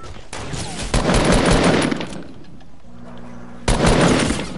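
Heavy gunfire roars in an online shooter match. Loud, dense bursts fill the opening seconds, ease to a softer lull, then a second sharp volley erupts near the end.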